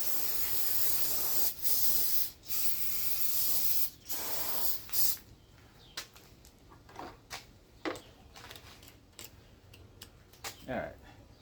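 An aerosol can of brake cleaner sprays during lawnmower maintenance, with several long, loud hissing bursts followed by quieter clicks and handling noises.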